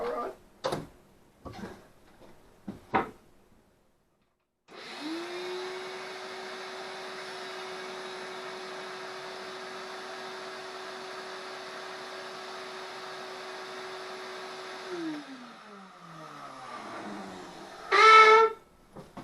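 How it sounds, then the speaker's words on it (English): A shop vac starts up after a few clicks and runs with a steady droning whine for about ten seconds, then winds down as it shuts off, close and loud. "turn on the shop vac here, I'm expecting this thing here to pretty much max out"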